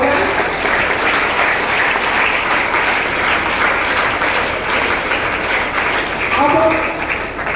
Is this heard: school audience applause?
yes